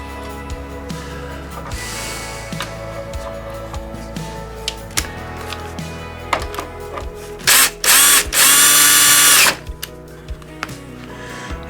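Power drill driving two screws into a DeWalt DWS779 miter saw during a shadow light XPS upgrade, with clicks and handling noises, then two close, loud whirring bursts near the end.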